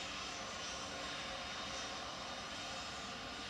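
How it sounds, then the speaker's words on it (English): easyJet airliner jet engines running at Manchester Airport, heard as a steady, broad roar from a distance that holds constant throughout without voices. "I think that EasyJet started its engines down there now."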